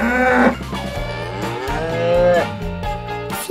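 A cow moos in long, loud, drawn-out lowing calls, close and clear, with no talking over it.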